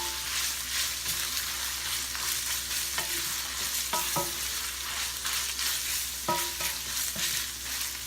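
Vegetables and meat for beef and pork egg rolls fry steadily in a pan, a continuous close sizzle with sharp scraping stir clicks around the third, fourth and sixth seconds, and no voices.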